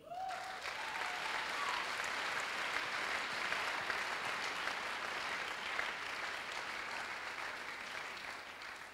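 A church congregation applauds the Lord in sustained, even clapping for about nine seconds, with a brief voice at the very start.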